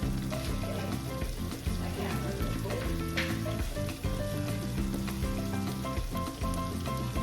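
Half a cup of garden-grown chopped onions sizzles in a meat sauce for a lasagna. The crackling hiss runs continuously beneath steady background music.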